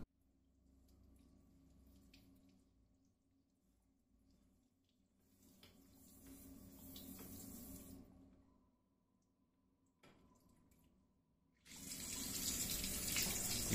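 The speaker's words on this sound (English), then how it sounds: "You can see the water, the water is coming from the top" Water rushing from the lowest bathroom tap to clear an air lock in a geyser line, flowing in uneven bursts, with short lulls and a louder gush near the end.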